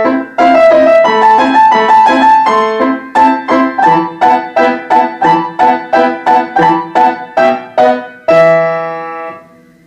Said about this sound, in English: It's a very famous piece by Mozart called Turkish March.